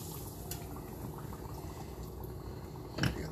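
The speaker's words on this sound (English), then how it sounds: "Yeah, those are bubbling very nicely." Food bubbles in a pot with a steady, soft, continuous hiss and gurgle, fairly faint and close, with a brief louder clunk near the end.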